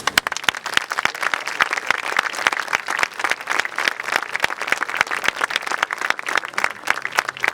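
Crowd applause at an outdoor commemoration of the Armenian Genocide in Plaza Armenia, Montevideo: a dense, steady sheet of many hands clapping, loud and sustained throughout with no speech over it.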